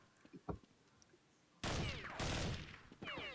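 Counter-Strike gunfire: after a few faint clicks and steps, loud bursts of automatic fire break out, rattling rapidly with a short pause and then another burst.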